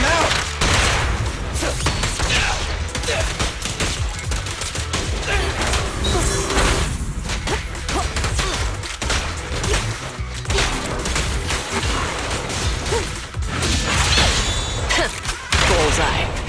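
A dense gunfire volley in the video game Zenless Zone Zero: rapid, continuous shots and crashing impacts fill the mix for the whole stretch, with game voices speaking over the din.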